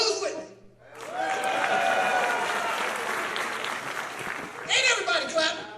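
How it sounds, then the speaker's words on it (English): Studio audience at a comedy show bursts into sustained applause after a short gap, loud and steady for several seconds, with a few chuckles mixed in and a voice speaking briefly at the start and near the end. "Ain't everybody clapping?"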